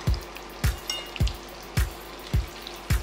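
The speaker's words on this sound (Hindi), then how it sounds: "और इसे धीरे धीरे फ्राई होने देंगे" Vegetable snacks made without gram flour or refined flour frying in hot oil, a steady bubbling sizzle broken by regular loud crackling pops about every half second, close and alone with no talk.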